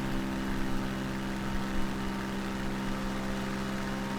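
Aircraft engine in Microsoft Flight Simulator 2020, a steady droning hum with a constant low tone that holds at an even level throughout, with no talk.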